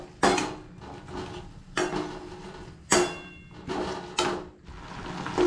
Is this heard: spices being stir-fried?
yes